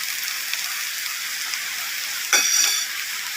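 Bamboo shoots and egg stir-frying in a pan, a steady close sizzle with a brief louder scrape-and-hiss as the food is tossed partway through, no voices.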